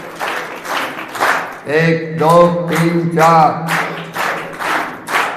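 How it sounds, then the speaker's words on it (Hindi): A seated group at a spiritual talk claps in unison to a spoken count of four, sharp rhythmic claps alongside a voice counting aloud. "4 बार ताली बजाएंगे।"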